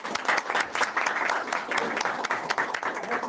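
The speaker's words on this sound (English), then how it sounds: "So let's give them a round of applause." Applause at a regular school board meeting, a cluster of hands clapping in a sustained, uneven patter at close range for a few seconds, with no one speaking over it.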